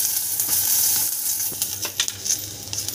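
Green chilies and garlic cloves fry in a pan for a Maharashtrian gavar thecha, giving a close, bright sizzle with a few clinks and stirring taps toward the end.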